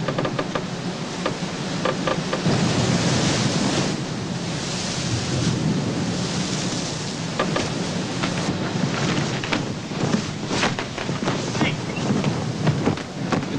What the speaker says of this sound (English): The wind's about 35 knots and it's just so powerful in the rigging.